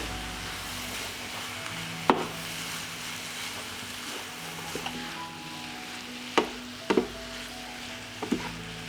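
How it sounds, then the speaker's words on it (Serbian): Carrots, onion, vegetables and meat fry steadily in a pan with a constant close sizzle, broken by a few sharp scrapes and knocks of stirring. "Na povrće dodajem meso i pržit ću još 10 minuta."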